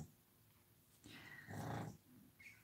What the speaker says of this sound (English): He's quite good at snoring,